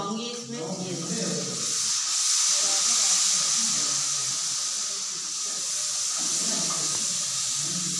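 Water poured into a pot of frying chili masala sets off a loud, steady steamy hiss and sizzle that carries on for several seconds, with a brief voice near the start.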